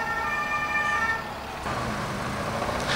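An ambulance siren wails beside a snowy quay on the IJssel, its steady tones carrying over traffic and outdoor rumble. A broadband whoosh rises partway through.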